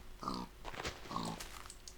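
Pig oinks from the Minecraft video game: two short, soft nasal grunts in quick succession, faint and alone.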